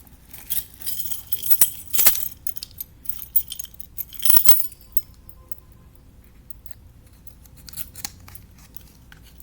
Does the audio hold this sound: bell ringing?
no